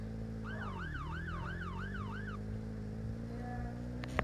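A police car siren in the video game Brookhaven RP wails in a fast rising-and-falling warble for a few seconds over a steady engine hum, then cuts off abruptly.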